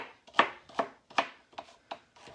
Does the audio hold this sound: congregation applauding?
no